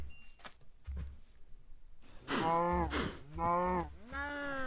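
Cows lowing in Minecraft as they are attacked, several short harmonic moos in a row, fairly loud over faint game background with earlier soft hits and clicks.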